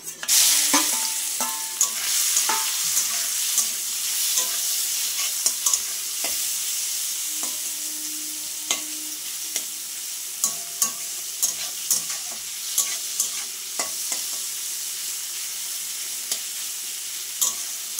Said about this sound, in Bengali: তেল গরম হয়ে গেছে, আমি মাছগুলো ভেজে নেব আগে